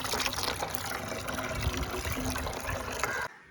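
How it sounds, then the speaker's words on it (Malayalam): Plain water pours steadily into a container for a homemade rice-water plant feed, a continuous close gushing splash that cuts off abruptly just before the end. "ഇതിനകത്ത് ഫുള്ളും വെള്ളം ഒഴിച്ച് കൊടുക്കാം"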